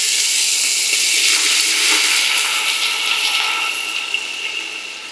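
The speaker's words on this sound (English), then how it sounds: "Next, we're going to add in our water." Water poured into a pot for Filipino macaroni soup, a continuous splashing gush lasting several seconds and tapering off toward the end.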